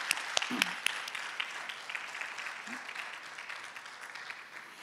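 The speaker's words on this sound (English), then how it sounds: "round of applause for everybody for that" Applause from a crowd fills the space, a steady wash of clapping with a few louder claps and a murmured voice, thinning slowly toward the end.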